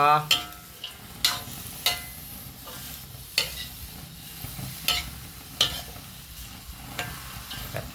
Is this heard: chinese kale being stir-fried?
yes